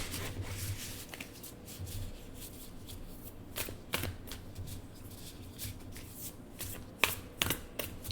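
A new tarot deck being shuffled by hand: repeated crisp riffles and soft card slaps in irregular bursts, close and fairly quiet, with no talking.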